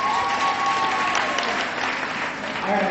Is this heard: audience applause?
yes